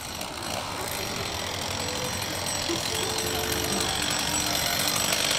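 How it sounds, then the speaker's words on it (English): A chainsaw revs steadily at a haunted house horror attraction, a loud, continuous mechanical roar with faint voices beneath it. "Here's the chainsaw. Here he comes."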